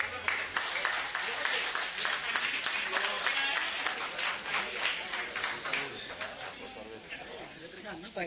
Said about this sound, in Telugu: claps claps